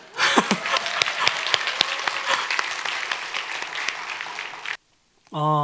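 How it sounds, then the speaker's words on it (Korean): A church congregation at a Korean Presbyterian Sunday service in Toronto applauds for the young people, with loud, dense clapping and a few sharp claps before it stops abruptly and a voice starts to speak. "우리 그냥 청년들 잘되라는 의미로 박수 한번 칠까요?"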